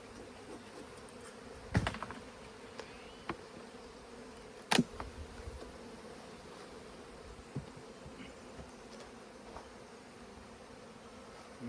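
Honeybees buzz steadily around a hive being reassembled during an artificial swarm split, a faint continuous drone broken by a few sharp knocks and clunks of hive parts.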